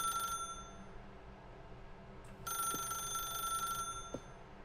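Telephone ringing inside The Stanley Parable video game: an electronic bell-like ring in two bursts separated by a pause, steady and fairly clear over a low room hum, with a couple of faint thuds.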